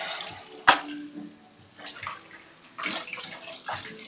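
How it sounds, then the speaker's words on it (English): Green beans rinsed under running tap water in a kitchen, a soft continuous splashing stream with a sharp clunk near the start and gentle fluctuations, fairly close. "giving the green beans a quick rinse"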